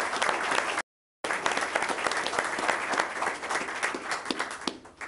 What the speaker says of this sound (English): Can we clap once first?